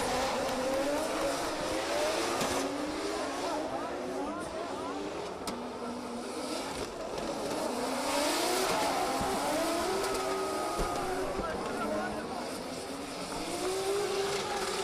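Drift cars racing side by side at an international drift championship round in Oman, engines wailing and rising in pitch through sweeping slides, with tire squeal and an announcer talking over the steady roar.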